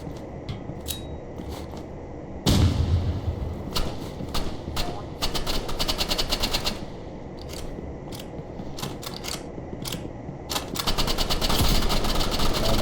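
Rapid bursts of gunfire crackle in the Roblox Rivals video game during a tournament finals match, sharp clustered clicks and shots in repeated volleys over a steady background hum.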